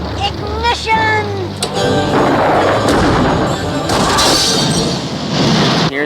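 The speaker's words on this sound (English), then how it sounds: "Here's a fireworks display we saw." Cartoon fireworks in a Garfield and Friends episode: rising whistles give way to booming thuds and a long, loud crackling roar, with a voice speaking under the noise.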